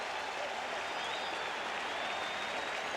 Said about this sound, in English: And the crowd absolutely loves it.